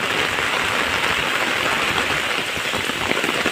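Heavy rain pours down in a village, a loud, steady, dense hiss of drops on surfaces that stays even throughout with no voices over it.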